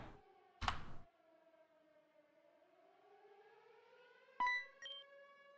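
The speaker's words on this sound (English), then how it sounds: "I hear sirens." A wailing siren in the video game Pokemon Uranium slowly rises and falls in pitch, fairly faint, punctuated by a couple of short sharp electronic sounds.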